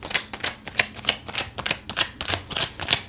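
Tarot cards are shuffled and drawn up close in quick, rhythmic riffling bursts, roughly a dozen crisp flutters over a few seconds.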